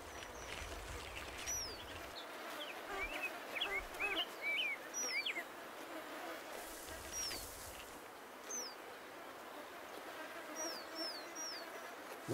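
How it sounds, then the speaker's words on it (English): Ruffed grouse hen clucking softly while chicks give thin, high chirps, scattered brief calls spread across the stretch over a quiet outdoor background. "For the ruffed grouse, clucks of the hen and chirps of the chick strengthen the bond."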